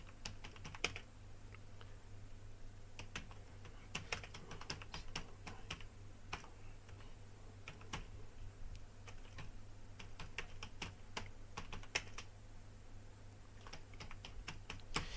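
Typing on a computer keyboard while entering narration text in Tally ERP 9 accounting software, a steady stream of quick close key clicks with brief pauses, no voices.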